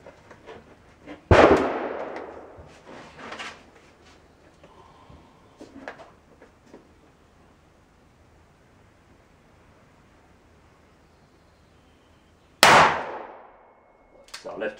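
A short-barrelled Smith & Wesson Model 69 Combat Magnum revolver fires .44 Magnum rounds: two loud, sharp shots about eleven seconds apart, each with a quick reverberant decay and faint handling noise between them.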